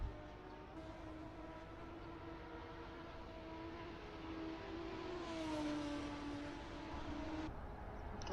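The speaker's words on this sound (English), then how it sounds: "Somebody idling at the pits there." Race car engine idling in the pits at Silverstone in a sim racing game, a steady droning hum with a slight rise in pitch partway through, continuous and fairly prominent.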